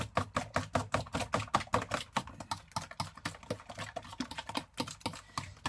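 A fork clacks quickly against a bowl while mixing coconut and banana bait batter made with flour, a steady run of light, even taps, close and fairly quiet.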